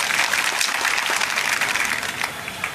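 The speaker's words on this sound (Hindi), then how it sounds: "मेरे को छोड़ के सारे अतिथियों के लिए और हमारे खिलाड़ियों के लिए जरा जोरदार तालियों से स्वागत करें।" An audience at a public gathering in Prithvipur claps loudly and steadily to welcome guests and players, a dense, continuous round of applause heard close up with no speech over it.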